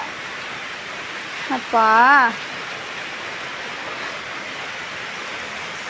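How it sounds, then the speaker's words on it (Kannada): Steady rain falls with a dense, even hiss throughout, close and constant, while a voice calls out briefly once near the start. "ಇನ್ನು ಮಳೆ ಬರ್ತಾರೆ ನೋಡಿ,"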